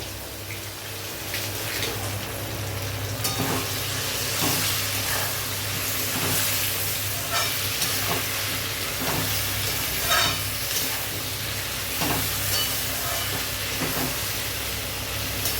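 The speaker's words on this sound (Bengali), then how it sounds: "ভালো করে নাড়াচাড়া করে অনেকক্ষণ একটু ভেজে নেব" Crushed garlic and onion fry together in a pan, giving a continuous broad hissing sizzle with a low steady hum beneath and scattered small crackles throughout, with no talking.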